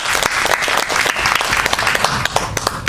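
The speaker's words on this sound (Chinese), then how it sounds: "大家值得给他一个掌声" Audience at a Chinese-language speech club meeting applauds steadily for about three seconds, dense clapping filling the room at a constant loud level.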